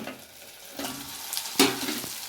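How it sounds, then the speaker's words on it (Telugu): Brinjal pieces stirred through hot oil in a pan while frying, with a steady sizzle broken by a few scraping spoon strokes and one sharp clatter, close by and with no talking. "వంకాయ ముక్కలు వేసేద్దాం నూనెలోకి కలిసేటట్టుగా బాగా కలిపెట్టుకోవాలి"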